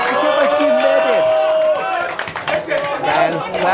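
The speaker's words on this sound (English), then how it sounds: "Fans clapping and cheering for the Taikai." Wrestling crowd at a Takanashi versus EK Baki bout in 2013, a dense wall of cheering, shouts and scattered clapping, loud and sustained throughout, with a commentator's voice running over it.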